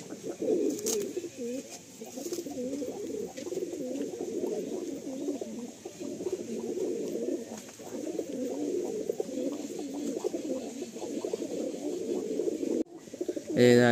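Madrasi pigeons in a loft at Julpia Amtala coo steadily and continuously, a dense overlapping murmur of many birds close by, with a brief dip near the end.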